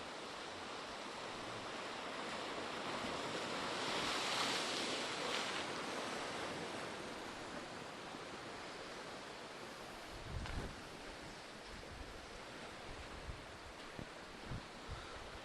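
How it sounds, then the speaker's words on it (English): Steady roar of surf with waves washing and crashing on rocks at a beach, a broad continuous rush that swells and eases, with a few heavier thuds of water near the end. "Sit down and watch the waves crash."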